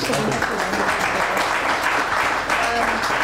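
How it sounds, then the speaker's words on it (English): Audience at a Startup Grind Johannesburg event gives a round of applause for a guest speaker, a steady, dense wash of clapping filling the room at moderate loudness with some voices mixed in. "Can we just give Neil a round of applause?"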